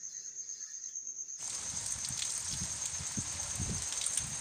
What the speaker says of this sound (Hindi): बरसात के छींटे कितनी तेज़ी से, छत से